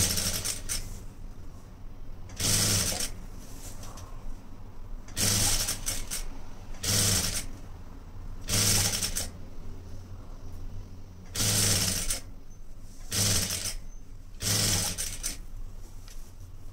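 Domestic sewing machine stitching a single layer of a plain blouse, running in repeated short whirring bursts of about a second each with brief pauses between, close and clear with no talking.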